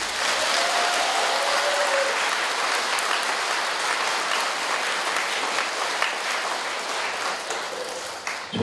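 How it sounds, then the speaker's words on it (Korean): Sustained audience applause at a Buddhist consecration dharma ceremony, dense steady clapping from a crowd filling the space, holding loud for several seconds before tapering slightly at the end. "박수 한번 크게 칩시다"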